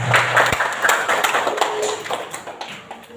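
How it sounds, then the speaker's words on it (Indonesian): Students in a classroom give a short round of clapping for a classmate, with a sharp clap near the start and uneven, thinning claps that taper off. "Tepuk tangan buat Ida."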